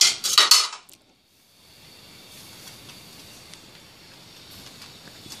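Sugar poured into a pot of boiling thin semai vermicelli gives a brief, bright granular clatter for about a second, then fades into a soft, steady simmering hiss.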